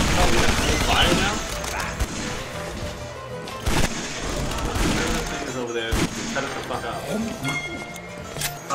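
Scattered gunshots and crashing impacts in a shooter game fire in irregular bursts, mixed with busy game sound while a person talks over them.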